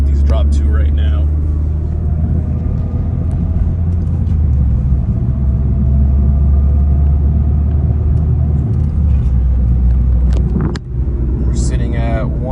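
Fourth-generation Mazda 3 fitted with a Corksport short ram intake picking up speed on the road, a steady low engine drone and road rumble throughout with a brief dip near the end and talk over it.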